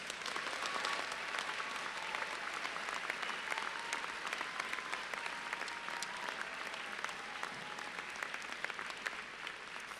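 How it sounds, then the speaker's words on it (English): Applause rolls through the crowd at a 2014 winter graduate commencement ceremony, a continuous, even patter of many hands clapping at moderate distance for the full stretch. "Let's give them all a round of applause."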